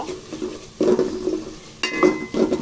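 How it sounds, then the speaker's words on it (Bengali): Spice masala being stirred and sautéed in a pan for a shing fish and mankochu curry, with three bursts of utensil scraping and clinking over a low sizzle, close and fairly loud. "মশলাটা ভালো করে কষিয়ে নিব"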